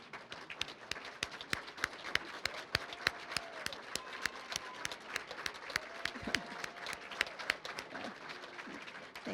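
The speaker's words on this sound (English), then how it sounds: "Let's give our parents, our teachers, our administrators a big round of applause" Graduation ceremony audience applauding, a dense, steady patter of many hands clapping at a distance in a large space, continuing without a break.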